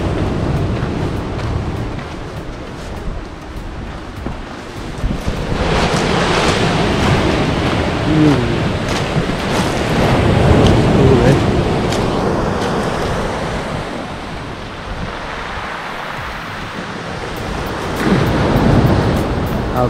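Waves on China Beach, Vancouver Island, surging and washing ashore in broad swells, loud and close with wind buffeting the microphone, rising and falling over several sets.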